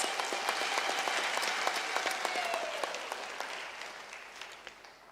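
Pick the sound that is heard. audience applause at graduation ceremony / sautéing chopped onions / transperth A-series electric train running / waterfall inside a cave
audience applause at graduation ceremony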